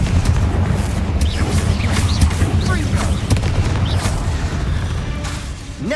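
In the Hogwarts Legacy video game, a Confringo spell sets off a fiery blast, heard as a dense, loud rumbling burst with crackling pops and whooshes over a deep low boom.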